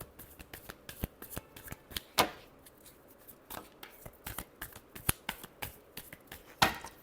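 Tarot cards are shuffled by hand in quick riffling bursts, a series of sharp close flutters and taps with brief pauses between, alone without talk.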